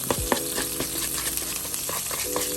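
Meat sizzles in butter in a frying pan at breakfast, a steady close crackle with scattered pops and occasional utensil scrapes against the pan.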